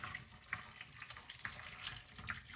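Hot water poured into a slow cooker while making chicken bone broth, a faint, steady trickle and splash with small irregular droplet spikes.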